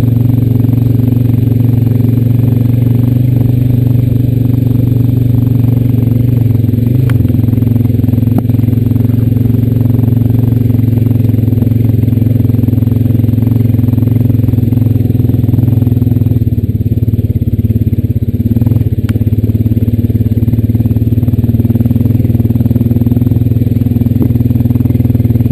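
A Honda Rancher 420AT ATV engine drones steadily and loudly while riding along a gas line trail, with a constant low hum and faint rattles throughout.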